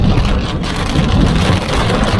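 Steady rain drums on a car during a stormy day in Cyprus, a dense, continuous wash of patter with a low rumble underneath, loud and close throughout with no voices.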